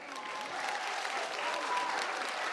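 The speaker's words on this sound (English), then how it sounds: "Let's give them another round of applause" Audience applause after a school opera performance of "Pinocchio," a dense, steady wash of many hands clapping at moderate loudness, with no voices.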